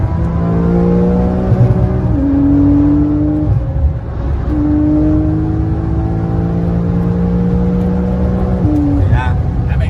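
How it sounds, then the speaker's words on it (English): BMW M8 Competition racing a Lamborghini Huracán, loud engines climbing through the gears with rising whine and shift breaks, close and continuous, with voices over the noise. "A BMW M8 Competition smoking a Huracán."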